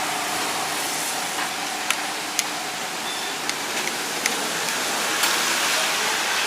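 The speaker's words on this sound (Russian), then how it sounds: "Ну и сейчас дождик пройдет, и мы пойдем дальше." Rain falls steadily on Boracay island in the Philippines, a constant hiss of water with a few sharp drips and taps standing out, no voices.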